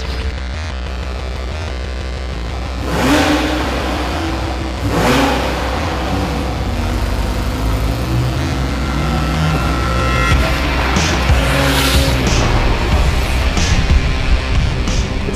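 A Porsche 911 Carrera S is pushed hard around a race track, its engine revving and surging loudly through gear changes, heard from inside with a constant hum and rumble.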